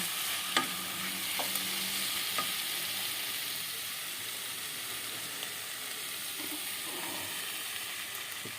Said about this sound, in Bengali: একটু ভালো করে নাড়িয়ে চাড়িয়ে নিচ্ছি এইভাবে নাড়িয়ে চাড়িয়ে নিচ্ছি